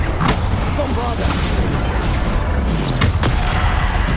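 A Bombarda blasting spell explodes in Hogwarts Legacy with loud, booming bursts and crashing impacts in a dense, continuous barrage, and voices come through the clamor.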